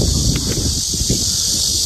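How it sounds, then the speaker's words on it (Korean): Cicadas sing in a campsite and rest area with a children's playground, a steady high, hissing drone that runs unbroken throughout, over low rumbling background noise. "매미 소리도, 매미 소리, 야, 매미도 저기 있어요."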